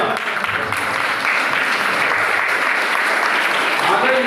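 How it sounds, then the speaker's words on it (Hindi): Students clap together at a school gathering, a steady, dense burst of applause that stays loud and continuous from start to finish, with some voices mixed in. "आपके लिए ताली बजाओ।"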